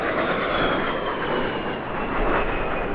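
A-10 military jet flying at an airshow produces a loud, steady broadband roar with a high whine, continuous and close throughout, with no voices.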